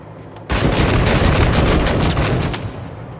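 Sustained gunfire in Wasteland 3, a dense continuous barrage of shots and impacts erupting after a quiet half-second and holding loud to the end.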